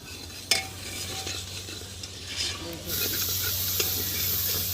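Masala and tomato puree fry in oil in a pot, a steady sizzle and hiss with a spoon scraping and stirring, a sharp clink near the start, no talking.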